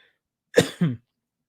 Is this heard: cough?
yes